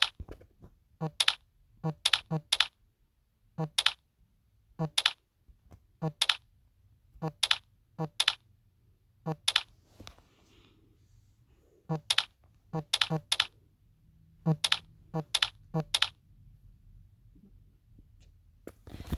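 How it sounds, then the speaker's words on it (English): Keys on a computer keyboard clack sharply in quick bursts of two to four presses, separated by short pauses, very close and crisp in an otherwise quiet room. "Keyboard trick. The keyboard is so satisfying."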